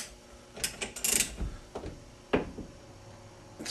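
A 14mm Allen socket turning on a motorcycle fork valve, giving a few separate metallic clicks and ratcheting clatters, close and moderately loud, with short pauses between them.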